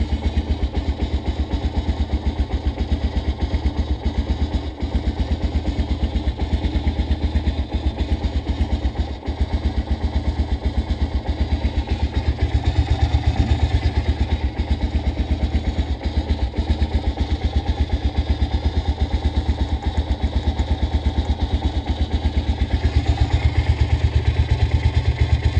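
Honda CRF 230 motorcycle engine running in cold weather, a steady mid-pitched, rumbling, clattering idle that stays close and loud for the whole stretch with no talk over it.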